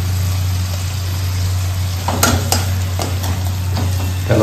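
Spices and salt are stirred in a pan over a low flame while cooking cauliflower bhaji, giving a steady sizzle with a constant low hum beneath and a few sharp spoon scrapes toward the end.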